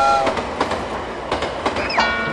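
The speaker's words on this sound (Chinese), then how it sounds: "你看到他开火车" A train runs on the line to Yanagawa in Fukuoka, Kyushu, with a steady rolling rumble and clatter of wheels on rails, and a brief high squeal or horn-like tone near the end.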